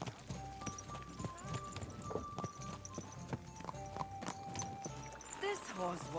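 Horse hooves clip-clop steadily in Kingdom Come Deliverance 2, a regular rhythmic patter sitting under music and game sounds, with someone talking over it throughout.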